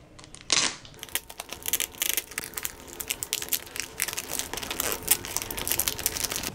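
Packaging of Korean ginseng tea from a wooden box is unwrapped close up: a sharp tear, then continuous crinkling and crackling of plastic and paper, loud and irregular.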